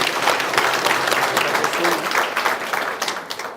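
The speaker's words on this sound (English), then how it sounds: "give yourself one last round of applause" Dense, sustained applause from a crowd at a live election panel discussion in Namibia, loud and steady for the full few seconds, with no clear talk over it.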